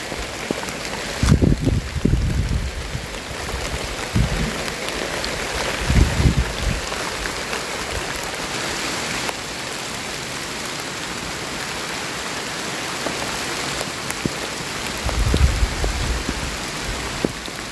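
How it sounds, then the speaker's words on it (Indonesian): Heavy rain pours steadily onto a garden hut, a dense continuous hiss with occasional heavier drumming thuds nearby, with no talk. "hujannya semakin melebat"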